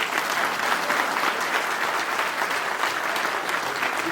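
Sustained crowd applause at a large Bahujan conference rally in Gujarat, dense and steady clapping that stays loud and even for the whole stretch with no voices over it.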